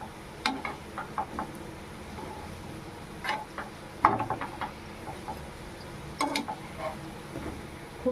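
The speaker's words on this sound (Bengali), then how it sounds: "ওই পিঠটাকেও খুব ভালো করে ভেজে নেব" Pitha frying in oil over a low flame makes quiet, sparse crackles and small spits, with occasional clinks from a utensil against the pan, in irregular clusters.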